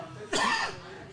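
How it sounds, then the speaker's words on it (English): A single short cough sounds close in a quiet room at a brewery recording. "Cough."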